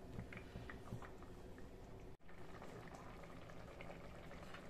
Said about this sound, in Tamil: ஒரு 5 நிமிஷம் கொதிக்கட்டும்